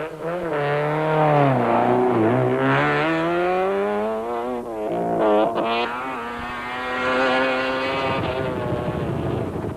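A Mitsubishi Conquest rally car on a 1991 stage with a slipping clutch and a temporarily fixed oil leak, its engine loud and close, revving up and down through gear changes.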